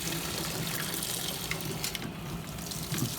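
Water gushes steadily into a washing machine tub filling for a hot soak of cloth diapers, a continuous close rushing with no talk.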